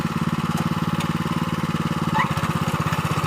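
A small farm machine engine runs in a tobacco field, giving a fast, even, chugging putter close by that holds a steady, throttled-up pace throughout.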